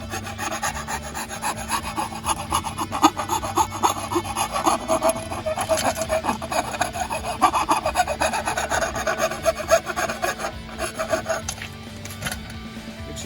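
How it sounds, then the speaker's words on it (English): A metal file rasps rhythmically against a damaged boat skeg to remove burrs, producing steady back-and-forth scraping strokes, close and moderately loud. "I'm going to use the file just to get some burrs"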